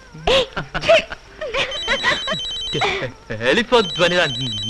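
A telephone rings with repeated electronic tones under steady talking, the ringing rising and falling in short bursts across the clip.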